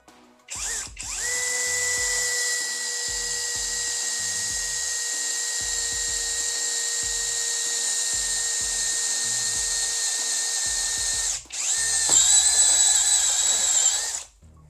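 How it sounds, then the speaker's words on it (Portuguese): A FortG brushless drill bores into a thick-walled metal tube, running at a steady high whine for about ten seconds before stopping briefly and restarting loud at the end. "Eu vou furar aqui, ó."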